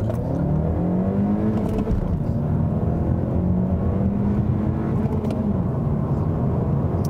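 A 2017 Honda Civic Si engine droning steadily under load, pitch rising and dipping as revs climb toward the limiter, heard from inside the cabin with a continuous hum.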